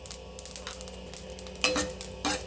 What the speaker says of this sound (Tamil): கடாய் காஞ்சதும் கொஞ்சமாக கடுகு போட்டுக்கோங்க கொஞ்சம் சீரகம் கொஞ்சம் வெந்தயம்